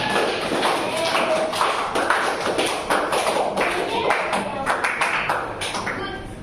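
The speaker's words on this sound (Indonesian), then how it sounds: "tepuk tangan buat kawannya yang udah memberikan kesulitan" Classmates in a classroom clap for fellow students, a steady burst of dense, close applause lasting several seconds without letting up.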